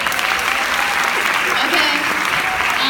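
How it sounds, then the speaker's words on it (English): A crowd at a high school graduation applauds continuously, a dense, loud wash of clapping that fills the short stretch without a break. "So one more round of applause."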